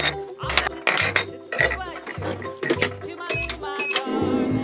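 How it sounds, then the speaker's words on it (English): A magic microwave toy, used with candy and Pez dispensers, finishes with a string of short chiming, clinking electronic tones and bright pulses, loud and close, with some talk mixed in. "Sounds like the magic microwave is done!"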